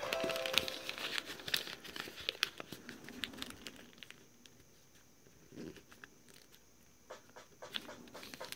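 Paper crinkles and rustles close up as it is creased and folded into an origami lotus, soft irregular crackles and taps with no talking.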